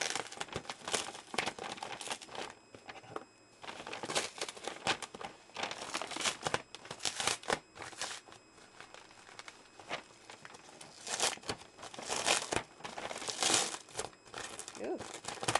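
A paper envelope is pulled open close up: dense crinkling and tearing with sharp crackles, running on and off throughout at a fairly quiet level.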